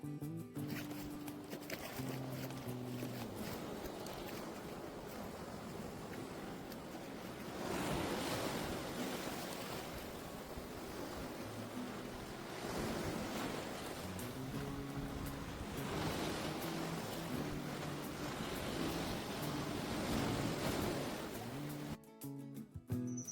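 Waves surge and crash on a rocky Andaman beach near a natural coral bridge, a loud, steady roar that swells every few seconds. Wind buffets the microphone throughout, and there is no talking.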